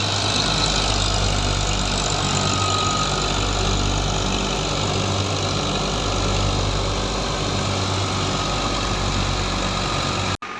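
A Fiat 480 tractor with power steering runs a Batala 16-model thresher, a loud steady diesel drone with a deep throbbing low hum and a continuous whirring mechanical roar from close by, ending abruptly.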